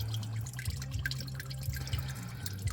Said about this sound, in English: my oil is still hot, so I'm gonna let that drip dry for a little bit